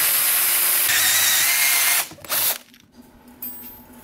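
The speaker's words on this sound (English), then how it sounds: "what I'm thinking to do is to drill a hole down here" A power drill bores a hole in an old compressor crankcase, whining loud and steady for about two seconds, then stopping, followed by brief bursts and quieter clicks and handling noise.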